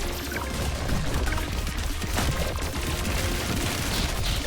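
An explosion detonates in the video game Pathogenic, a loud, dense burst of crackling, debris-like noise that rumbles on for several seconds.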